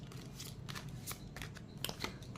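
Cards being shuffled and drawn from a deck, a continuous close riffle of flicking, sliding cards with a few sharper snaps near the end, quiet and without speech.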